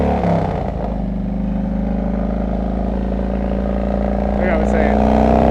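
A Harley Road King Classic with 39-inch fishtail exhaust pipes rumbles in a deep, steady, loud drone while riding, with someone talking over the engine throughout.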